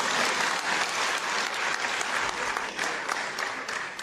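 An audience applauds with dense, sustained clapping that carries on loudly for about four seconds, with no talking over it.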